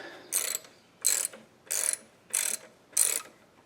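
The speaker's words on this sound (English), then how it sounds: "you're going to want to loosen this bolt here, which is a 12mm" A ratchet loosens a 12mm bolt on a Subaru engine near the alternator, five evenly spaced bursts of rapid clicking, close and clear with no talk.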